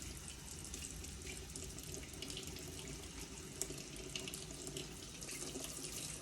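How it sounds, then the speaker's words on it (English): Tap water runs steadily over a paint brush being rinsed at a sink, a continuous even splash and hiss with no talk and a few small bubbling surges. "I'm just going to let the water run just a little bit in the middle."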